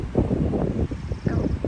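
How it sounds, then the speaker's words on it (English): Wind gusting across an outdoor garden bed, a steady low rumble of buffeting against the microphone that swells and dips throughout. "it's kind of windy out here."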